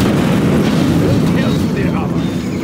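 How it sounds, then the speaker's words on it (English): Nuclear missile launch in Command & Conquer Generals, a sustained loud rumbling roar like a heavy blast or rocket burn that slowly fades, with game voice chatter mixed in. "We have launched our nuclear missile."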